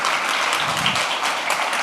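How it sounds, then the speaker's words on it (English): An audience applauds after a startup founding and funding talk, with a dense, steady burst of clapping that fills the room and no one speaking over it. "Please give them a round of applause."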